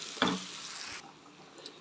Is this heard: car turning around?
no